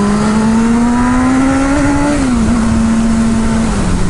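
A motorcycle pulls hard away from a green traffic light, its engine whining loud and close as the pitch climbs, dips at a gear change, then keeps rising under wind noise.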